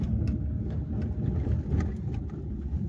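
A car drives along a town road toward a market, giving a steady low rumble of engine and tyres with some wind buffeting. The sound stays close and continuous, and no one speaks.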